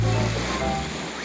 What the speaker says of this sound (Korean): 뒤에 파도 온다, 파도